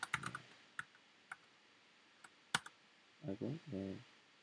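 Sparse, quiet clicks of typing on a newly swapped computer keyboard while coding, with isolated keystrokes spread out, then someone speaks briefly at the end.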